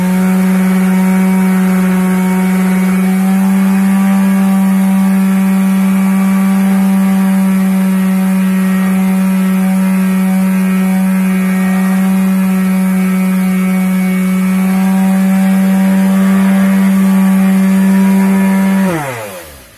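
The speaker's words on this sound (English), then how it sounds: "I have one of these sanders, not Bernie Sanders, just sander." A power sander works on a PC case, a steady, loud electric whine with a strong buzzing hum that runs unbroken for nearly twenty seconds before winding down abruptly at the end.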